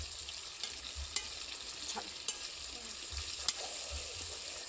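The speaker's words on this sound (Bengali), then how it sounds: "হালকা আঁচে 5 থেকে 6 মিনিট বা তার বেশিও একটু কষে নিতে হবে" Mutton stir-fried in a wok over low heat, a soft steady sizzle with occasional scrapes and clinks of the spatula against the pan.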